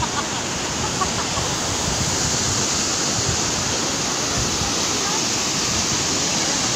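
Laligan Falls in Valencia, Bukidnon, pours with a steady, dense roar of rushing water, loud and close, holding an unbroken wash of sound throughout.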